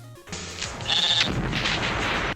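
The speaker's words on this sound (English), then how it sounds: "now I'm blowing up sheep with a bazooka?" Sheep bleats in a Crash Bandicoot game arrive as a loud, close, drawn-out wavering cry, with a bazooka blast booming in partway through and no talking.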